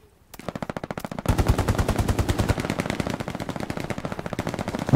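Sustained machine gun fire in a first-person shooter: rapid, evenly spaced bursts start sparse and then become a dense, loud, continuous stream of shots close to the listener.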